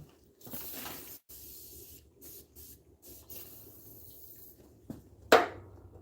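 Short hissing bursts of WD-40 sprayed from an aerosol can onto tractor parts, several quick squirts of varying length with pauses between them, close up, ending in a sharper louder blast.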